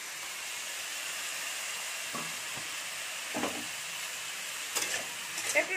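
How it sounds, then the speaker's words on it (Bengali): Potatoes and eggplant fry in hot oil with a constant close hiss and sizzle, with a few stirring scrapes and clinks as they are moved in the pan. "এখানে তেলটা গরম করতে দিয়েছি, তেলটা আমার গরম হয়ে গেছে। এবার আলু বেগুনগুলো তুলে দেবো।"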